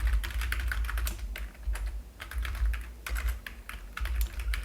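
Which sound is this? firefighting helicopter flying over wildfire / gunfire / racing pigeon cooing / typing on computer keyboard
typing on computer keyboard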